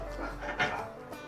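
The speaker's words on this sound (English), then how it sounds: "Please excuse my dogs barking in the background." Dogs bark faintly in the background, a couple of short, muffled barks over a quiet room tone.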